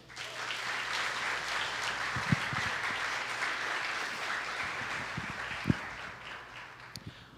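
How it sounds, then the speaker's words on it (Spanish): Applause from a church audience during a Spanish-language sermon, a soft continuous patter of many hands, fairly distant and even, with a few sharper isolated claps standing out near the end. "Vamos a darle un fuerte aplauso."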